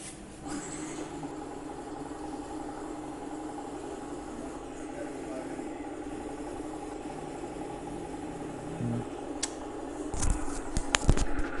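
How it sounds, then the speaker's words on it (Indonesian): A used 2020 Yamaha MX King motorcycle engine idles with a steady, even mid-pitched hum and vibration, close by, ending with a few sharper revs and knocks. "Saya sudah mendengar mesinnya bagus, nggak ada kendala sama sekali"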